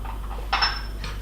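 An egg tapped against the rim of a bowl and cracked open for pancake batter: a bright clinking knock, then a short follow-up tap, close and alone over a low steady hum.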